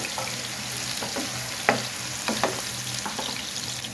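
Potato french fries bubble steadily in hot frying oil while a utensil stirs them, adding several sharp scrapes and clicks over the constant close sizzle.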